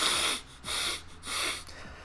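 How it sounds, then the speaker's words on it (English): A person blowing their nose during a casual gaming hangout, three forceful nasal blasts in a row, close and fairly loud, with no talk over them. "go blow your nose"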